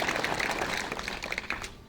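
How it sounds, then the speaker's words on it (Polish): Audience applause at the opening ceremony of a medical centre in Nadarzyn, Poland: dense, steady hand clapping from a gathered crowd, moderately loud and close, tapering off slightly at the end with no talk over it. "Duże brawa dla dziewczyn i przetargów"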